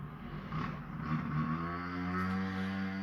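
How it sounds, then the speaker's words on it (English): Moped engine heard from outside, a faint buzzing whine that rises and settles as the rider keeps circling, steady harmonic drone without voices. "It's like a moped or something, and it keeps going round and round and round and round."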